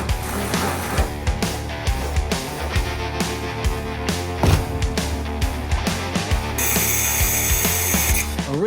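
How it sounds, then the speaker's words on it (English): Power drill boring through the metal body of an ex-Amazon delivery van being converted into an off-grid camper, a dense whirring grind with repeated short bursts and clicks, close and loud, with a harsher high-pitched stretch near the end. "and that is what we now need to drill out"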